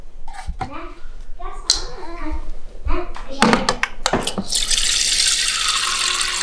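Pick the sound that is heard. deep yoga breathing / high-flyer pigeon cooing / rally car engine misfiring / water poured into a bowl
water poured into a bowl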